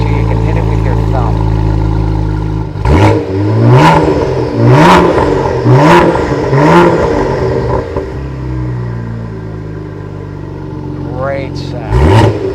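Car engine revving hard several times through a dual exhaust system, loud, punchy blips with rumbling idle between, a voice speaking underneath before a final rev.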